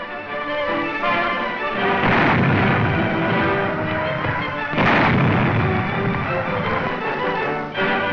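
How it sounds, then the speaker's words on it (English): Canadian tanks firing their guns near Ypres in wartime: about three heavy booms stand out at intervals over a dense, muffled, continuous rumble, with a narrow, old-recording tone. "Near Ypres, Canadian tanks clear the way with their guns."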